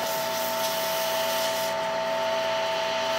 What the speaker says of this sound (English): let me hit that with sandpaper just a little bit. I got some 400 here.